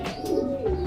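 Pigeons coo at a racing pigeon loft during a 400 km derby race, a low soft cooing phrase sounding close and steady across the whole second, with no talk over it.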